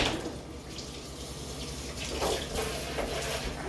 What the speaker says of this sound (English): Rinsing my hands off again.